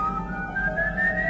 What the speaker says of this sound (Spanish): Silbo mi canción, la que me enseñó mi madre